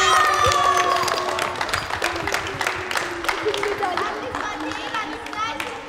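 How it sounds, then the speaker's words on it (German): Crowd applause and cheering for the Stuttgarter Kickers at a children's football day at a school in Sindelfingen, with steady dense clapping throughout and voices mixed in. "Dicken Applaus für die Stuttgarter Kickers."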